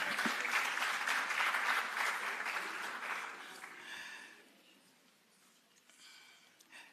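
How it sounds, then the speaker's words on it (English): Applause from an audience at a higher education conference, fairly dense clapping that gradually thins and fades into a few scattered claps and quiet room tone. "I thought you would give them a round of applause."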